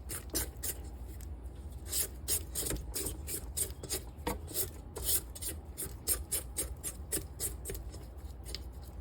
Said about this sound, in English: I'm gonna scrape down the sides